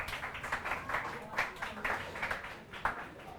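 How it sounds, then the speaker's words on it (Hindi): Students in a classroom clapping, a loose run of hand claps that rises and falls over a few seconds alongside a talking voice. "ताली बजा दीजिए, बहुत अच्छा।"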